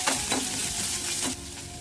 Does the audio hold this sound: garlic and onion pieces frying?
yes